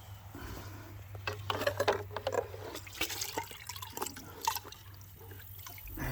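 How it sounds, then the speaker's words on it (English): Water scooped from a bucket in a shop, with splashing and trickling pours in irregular bursts over a steady low hum, fairly close and moderately loud, with no talk. "I think I'm going to scoop some water from the bucket."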